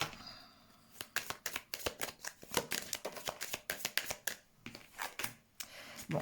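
Tarot cards being shuffled for a reading, a rapid run of crisp riffling flutters and slaps at close range, steady and fairly quiet, with no talking.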